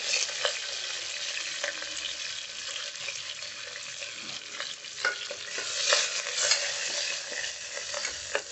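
Curry leaves and green chillies fry in hot oil for a mutton curry, giving a steady close sizzle broken by scattered stirring clicks, with no voices.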